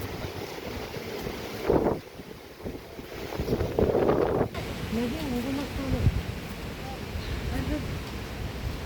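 Gusty wind at the summit of Nandi Hills rushes and thumps against the microphone in loud surges. A person then speaks over the steady blowing.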